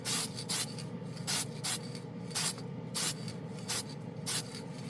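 Seymour Extreme FX chrome spray paint is applied in light coats onto a gray-primed spoon, heard as about eight short, sharp hissing bursts at regular intervals, close and fairly loud, with quiet gaps between them.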